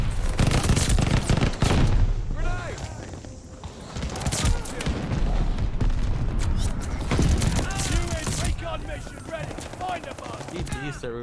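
Bursts of rapid automatic gunfire and a grenade blast in a multiplayer shooter game, loud and dense, with heavy booms under an announcer voice and game sounds.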